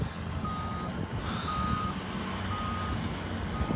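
Reversing beeps from a construction machine sound at a forest fire where several villages meet, steady repeated tones over a constant low engine rumble throughout.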